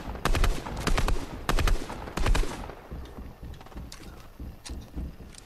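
Rapid bursts of video-game gunfire from Fortnite crack out in loud, sharp volleys, then continue as quieter scattered shots further away.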